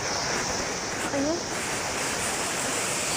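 Water from a village pond overflowing after heavy rain rushes past in a continuous loud broadband roar, with a brief voice heard faintly over it.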